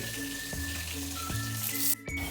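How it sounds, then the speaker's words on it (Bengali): Rohu fish and eggplant frying in hot mustard oil, a steady crackling sizzle with a few sharp pops and a brief clatter near the end, close to the pan. "এদিকে মাছগুলো ভাজা হচ্ছে, এদিকে আমি বেগুনগুলো ভেজে নেবো"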